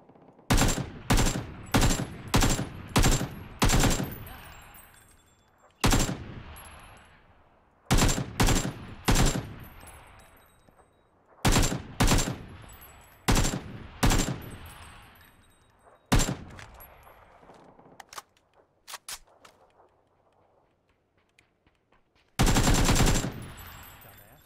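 Automatic rifle fire from an AK in a PUBG gunfight, with rapid bursts of loud close shots repeating in clusters, pausing between volleys, then a final sharp burst after a quieter stretch.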